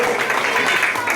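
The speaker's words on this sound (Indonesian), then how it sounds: "Tepuk tangan untuk adik-adik sekalian ya." A crowd claps for children at an immigration office anniversary event, a dense, steady burst of applause heard close, brief and unbroken.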